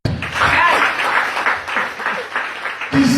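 A church congregation bursts into sustained applause and cheering during a pastor's sermon, a loud, dense wash of clapping lasting about three seconds and cutting off abruptly at the end.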